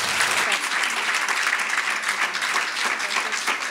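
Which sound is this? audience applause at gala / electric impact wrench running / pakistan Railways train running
audience applause at gala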